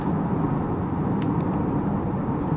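Steady low rumble of road and tyre noise inside the cabin of a GWM Haval H6 Hybrid SUV driving on a New Zealand road, constant and even with no talk.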